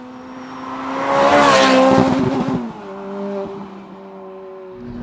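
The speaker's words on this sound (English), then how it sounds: "With this, all I do to compensate for the extra weight, just let it rev a bit longer." A 2007 Ferrari F430 Spider's engine revs up to a loud, sustained peak, then drops back and holds a steadier, lighter drone, close and alone.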